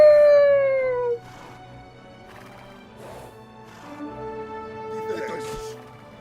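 Wolf in the strategy game Age of Empires II, a long falling howl up front followed by quieter game sounds including horse hoof clops and a whinny.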